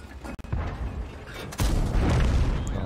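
A Panzer IV H tank gun in a tank battle video game fires a heavy boom midway through, preceded by a short sharp crack, with battlefield rumble lingering afterward.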